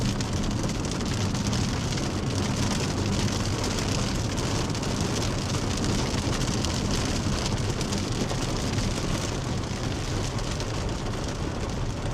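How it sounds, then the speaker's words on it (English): Heavy rain pours down during a Colorado storm, a dense, steady hiss of drops drumming on surfaces that stays loud and unbroken throughout, with no voices. "It's really raining."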